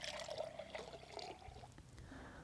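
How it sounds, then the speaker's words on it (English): Cold water poured into very hot water to cool it for a dairy artificial insemination procedure, a faint steady pouring trickle with splashy bubbling close by. "Now my water is very hot, and I'm going to pour in cold water to bring the temperature down."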